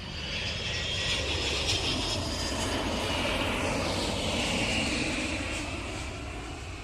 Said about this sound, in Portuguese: Nosso avião atravessou o Pará.